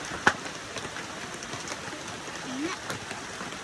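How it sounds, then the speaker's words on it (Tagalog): Steady rain on a mountain patters and hisses across the whole stretch, with a couple of sharper drip-like taps standing out against the wash. "Ayan guys, umuulan dito sa bundok."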